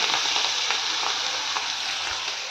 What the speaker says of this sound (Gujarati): હિંગનો વઘાર કરી ઓળો બનાવી નાખીએ મસ્ત મસ્ત.